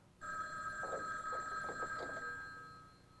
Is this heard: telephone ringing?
yes